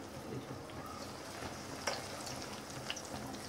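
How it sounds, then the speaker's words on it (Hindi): Sweet corn dusted with cornflour fries in moderately hot oil, giving a faint, steady crackling sizzle with a few sharper pops. "कॉर्न को डाल के तल लेंगे।"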